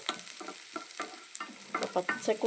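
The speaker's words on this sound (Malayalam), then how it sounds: "ഇഞ്ചി വെളുത്തുള്ളി ഒന്ന് ചെറുതായിട്ട് മൂക്കാം" Ginger and garlic fry in a pan with curry leaves, giving a steady sizzle under repeated stirring scrapes in an uneven rhythm, close and moderately loud with no talking.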